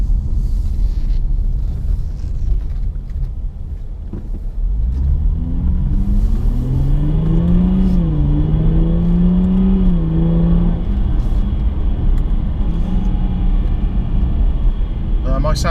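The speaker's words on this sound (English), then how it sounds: "the engine note is exactly like the F-Type when the F-Type's in normal drive mode" Jaguar XE S in sport mode, its engine note a low rumble that rises and swells under acceleration and then eases off, heard from inside the cabin while someone talks over it.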